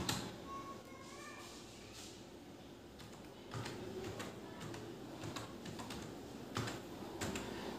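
A computer keyboard clatters with steady, fast key taps under a constant background hiss, close and without speech, as a page title is entered in Blogger.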